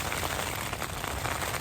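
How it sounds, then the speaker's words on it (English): Hail pelting a tent in a winter storm in northern Scotland, a dense, continuous rattling patter with no gaps and no voices. "So this is a hailstorm in northern Scotland in the winter."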